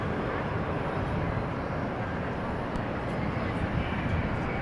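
A 1997 airliner's engine roars as a steady, broad, rushing drone at DFW Airport at night, holding an even loudness without breaks.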